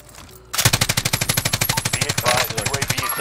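Sustained automatic fire from a PKM machine gun in the Warzone video game, a fast even string of loud close bursts after a brief quiet start, with no voices over it.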